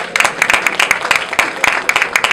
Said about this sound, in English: You will give him a big round of applause.